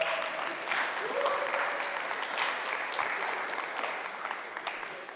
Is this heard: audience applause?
yes